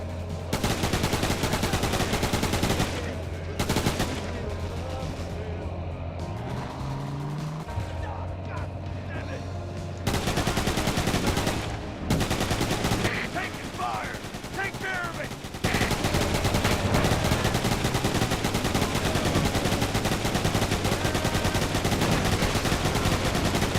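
Rapid turret gunfire blasts in sustained bursts in the Roadkill vehicle combat game, loud and dense, with a couple of brief pauses between volleys over a low engine drone.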